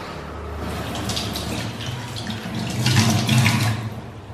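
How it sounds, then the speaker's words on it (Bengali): Chilies and onions rinsed under a running kitchen tap, a steady splashing stream of water that swells louder toward the end, close by with no talking. "লঙ্কা আর পেঁয়াজটা ধুয়ে নিই।"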